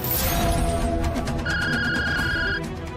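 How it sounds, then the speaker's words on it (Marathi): The phone rings once more, with a clear electronic ring tune sounding up close and a bright repeating tone in the middle stretch, and no one speaking over it. "परत फोन आला."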